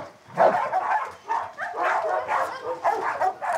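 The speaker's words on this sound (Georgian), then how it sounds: "ისმის ძაღლების წკაწკავი." Dogs yelping and barking in a fight, a close, loud string of overlapping yelps and barks with short pauses between bursts and no speech.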